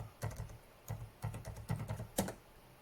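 Password being typed on a computer keyboard: a few quick bursts of close, crisp key clicks with short pauses between them, no voices.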